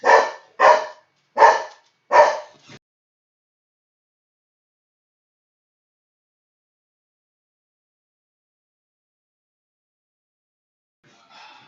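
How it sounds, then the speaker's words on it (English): Pet dog barking loudly indoors during a craft session, four sharp close barks in quick succession, then silence and a faint fifth sound near the end. "I do apologize for the loud, crazy, barky bark of my dog"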